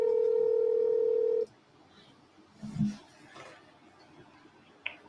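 A telephone call goes unanswered: one long steady ringing tone sounds for over a second, then cuts off into a quiet room with faint voices and small knocks.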